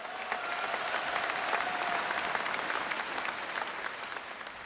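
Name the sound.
audience applause at a political convention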